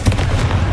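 A Confringo fire spell blast in Hogwarts Legacy, a short loud burst of booming, crackling fire that stays dense and forceful throughout.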